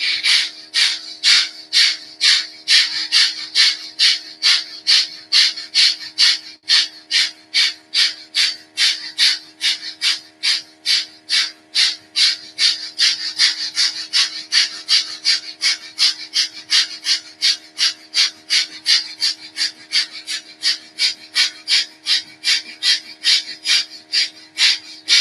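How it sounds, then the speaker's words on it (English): Fast rhythmic belly-pumped breathing exercise, sharp nasal exhalations repeating at a steady pace of roughly two per second for the whole stretch, close and clear with a faint hum beneath. "Just use the belly to pump the breath."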